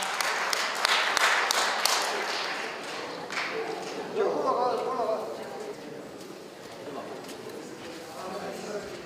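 An audience at an opening ceremony and awards presentation bursts into dense, scattered clapping that swells early and then thins out, with a voice talking over the fading applause.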